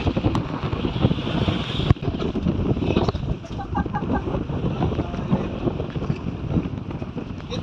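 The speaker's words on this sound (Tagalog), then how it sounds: "Malakas ang hangin guys." Strong sea wind buffets the microphone aboard a small fishing boat on the Muro Gulf in the Philippine Sea, a loud continuous roar with rushing water and faint voices underneath.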